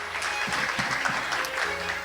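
Audience applause at a Korean award ceremony for a trade association's thesis contest, a steady burst of many hands clapping close and loud for about two seconds.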